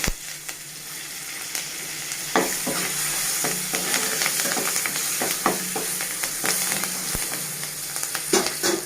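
Curry leaves hitting hot oil for bendakaya (okra) rice, a strong crackling sizzle with frequent sharp pops and scraping stirs, loud and close, no talk.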